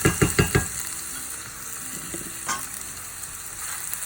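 An onion sautés in a pan while chicken and broccoli are being made, giving a steady close sizzle with a few sharp crackles and stirring clatters near the start, then a softer continuous fry.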